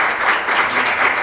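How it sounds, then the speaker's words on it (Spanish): An audience at a medical school conference applauds after a talk, a brief dense wash of clapping hands at moderate volume. "Un aplauso para la doctora Aurora"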